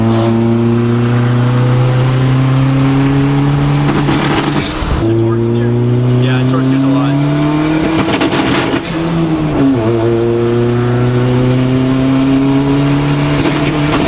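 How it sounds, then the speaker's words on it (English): A turbocharged Honda Civic with a 2.0 engine swap revs hard and bounces off boost cut, with loud sustained engine tones stepping up and dropping back and sharp backfire pops in the middle. Voices talk excitedly over the engine. "it's still doing some weird boost cuts, but it's still fun to send it. Whoa! That was a big backfire."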